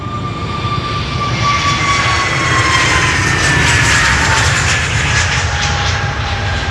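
A British Airways A320neo takes off from the Polderbaan runway at Schiphol, a loud, close jet roar with a clear descending engine whine that swells midway and holds steady for several seconds, with no talking.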